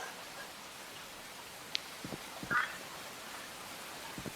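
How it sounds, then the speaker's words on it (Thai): Soft, steady rain hiss in a Roblox horror game fills the background, with a few faint drips and a brief high chirp poking through. "โว้ฝนตกว่ะ"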